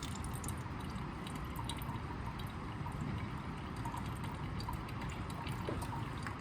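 Water poured into a test tube holding detergent in a chemistry lab, a soft continuous trickle and splash running throughout, fairly faint and close.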